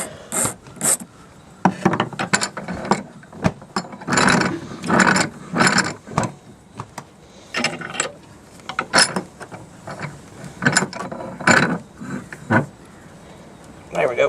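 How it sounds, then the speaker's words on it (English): A horseshoe nail heart pendant is clamped into a metal bench vise, giving close, repeated rasping scrapes and mechanical clicks in uneven bursts, with someone speaking briefly. "let's clamp back up in the vise"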